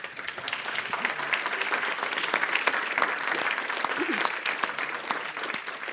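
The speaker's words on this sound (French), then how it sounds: "Merci beaucoup Françoise, on va applaudir." Close, dense applause from a conference audience after a French-language talk on the environmental impact of information technology, a busy, continuous clatter of many hands with faint voices mixed in.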